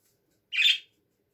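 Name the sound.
pet budgerigar chirping and squawking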